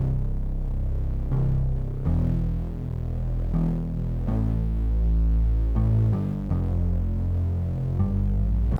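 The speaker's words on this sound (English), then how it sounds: "So I've got the 70s P bass, play style is picked," A Modo Bass 70s P bass played with a pick, layered with a synth bass, gives deep throbbing low notes in a steady pulsing line, loud and close, with no voices.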